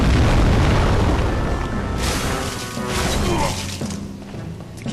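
A huge boss in Demon's Souls stomps down on the player, a loud, booming crash with heavy low rumble that swells, dips and swells again before fading.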